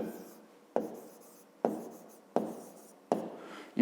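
Pen or pencil scratching on paper as a maths answer is written down, four or five short bursts of writing strokes separated by brief pauses, close and clear with no talk.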